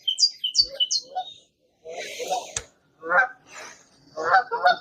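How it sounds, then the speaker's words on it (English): Geese honk repeatedly outdoors in a nature-friendly retirement community, clear nearby calls in irregular bursts with quiet gaps between them. "hear the geese?"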